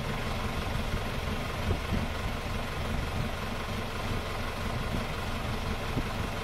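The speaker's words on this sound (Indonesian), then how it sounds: "Kondisi stasioner masih dingin." A cold diesel car engine idles with its injection pump timing set fully advanced, giving a steady, even rumble that runs unchanged throughout with no talking.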